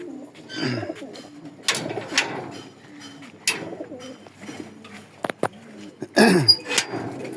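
Racing pigeons in a pigeon loft, repeated soft low cooing calls close by, with occasional wing flutters and light knocks in between.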